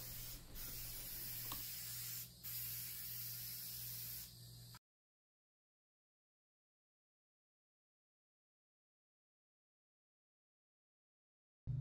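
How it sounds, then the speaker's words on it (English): A 3M Accuspray gun sprays paint with a loud, continuous hiss for nearly five seconds, briefly dipping once, then cuts off into silence. "3M Accuspray gun. It sprays everything: primer, paint, polyurethane, shellac, lacquer, enamel."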